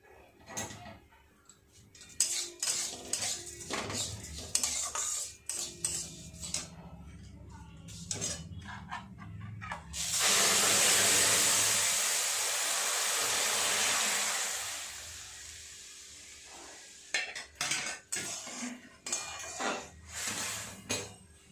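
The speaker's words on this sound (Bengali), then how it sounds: "দুধটা খুব সুন্দর ফুটছে" Milk poured over fried vermicelli comes to a boil in a pan for simui, a loud steady rush of boiling and hissing swelling mid-clip, surrounded by clinks and scrapes of utensils against the pan.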